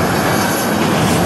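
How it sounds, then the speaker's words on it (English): Boeing 787 Dreamliner on the LAX airfield, its jet engines producing a loud, continuous broadband roar heard close by, with no talking. "That's a 787 Dreamliner."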